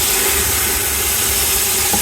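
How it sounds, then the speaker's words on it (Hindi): Pieces of meat frying in hot oil for a spicy Pakistani biryani give a loud, steady, close-up sizzling hiss that runs unbroken throughout. "जी बोटी फ्राई करके निकालनी है"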